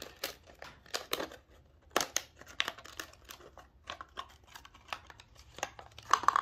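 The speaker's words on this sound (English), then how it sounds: "All right, let's get this bottle cut open here." Sharp crinkling and snipping of a plastic bottle being cut open, a series of irregular crackles and clicks up close, with quiet pauses between.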